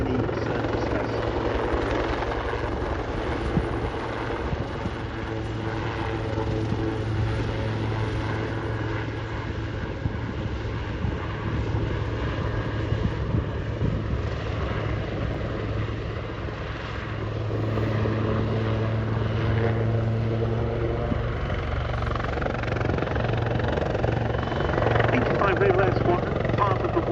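A Wildcat helicopter flies at the RAF Cosford airshow, its rotor and engine drone steady and continuous throughout, with a commentator talking over it.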